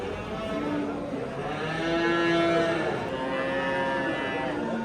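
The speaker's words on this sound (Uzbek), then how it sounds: "Ko'chat novvoslar mana buzoqlar" Young bulls and calves at a livestock market in Kokand low and moo several times, with long drawn-out calls rising over a steady crowd murmur and background voices.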